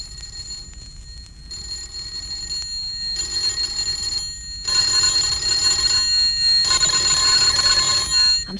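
Bells ring in bursts in a radio drama street scene in 1952 London, doorbells pressed at houses along a darkening street, sharp metallic ringing repeated several times at moderate loudness with no voices.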